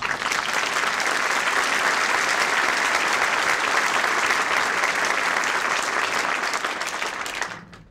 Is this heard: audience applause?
yes